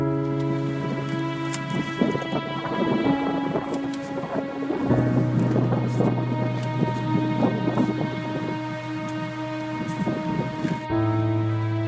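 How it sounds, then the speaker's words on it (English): Wind buffets and roars across the microphone in continuous gusts, with a steady tonal hum running underneath. "It's really windy today"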